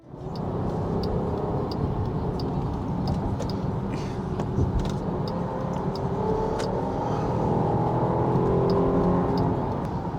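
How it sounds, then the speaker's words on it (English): A 2022 Jeep Grand Cherokee L Limited climbing a steep hill, its engine giving a steady, fairly loud whirring drone with a slight rise in pitch under load, heard alone from inside the cabin with faint ticks. "This just scampers up and it seems somehow wrong."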